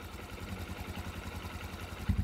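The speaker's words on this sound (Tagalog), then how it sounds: "At tahimik na po yung makina." A motorcycle engine idles steadily with a low, even rumble, running alone without talk and revving slightly louder near the end.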